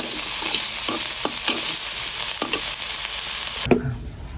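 Black cumin seeds fry in a little oil, giving a loud, close, steady sizzle broken by repeated scraping stirs. The sound cuts off abruptly near the end.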